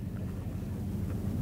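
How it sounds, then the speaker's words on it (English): Gusting wind on a golf course during the 2018 Ryder Cup, heard as a steady, low, rumbling buffeting against the microphone that lasts throughout, with no talking. "Wind starting to gust a little bit more, and it's just turning more in his face off the left."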